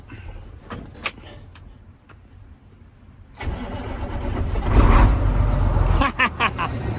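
An old farm truck engine cranks and catches after a few quiet seconds with a couple of knocks, then runs loud and rough at close range, revving toward the end.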